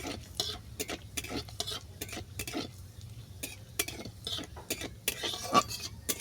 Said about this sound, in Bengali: সাদা জিরে ফোড়নটাকে ভালো করে ভেজে নিচ্ছি